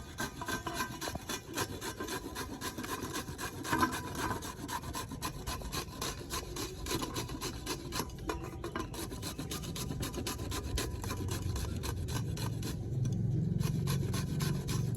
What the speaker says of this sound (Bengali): ঘোষণের সব থেকে ছোট দিকটা দিয়ে আমি আমটাকে ঘষবো